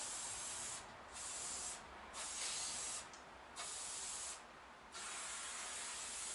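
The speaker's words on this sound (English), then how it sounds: "give a bit of a spray on the inside." Four short bursts of aerosol spray from a can aimed inside a part in a shed, each hiss lasting about half a second to a second, close and fairly quiet, with steady background noise between them.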